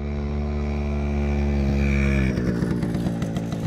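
Moped engine in the Chernobyl zone, a loud steady engine drone with strong harmonics that shifts into a choppier, rougher rattle as it pulls off and rides away, alone with no talk.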